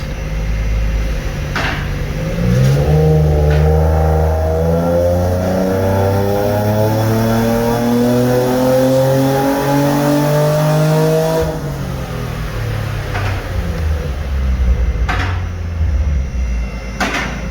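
A retuned car engine revs hard through a single dyno pull, the pitch climbing steadily for several seconds and then dropping away as the throttle closes. It is loud and close, with no talk.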